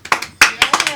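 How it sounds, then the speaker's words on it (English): A comedy club audience claps for a comedian, a short burst of sharp, uneven hand claps close by, with no voices over them. "Put your hands together"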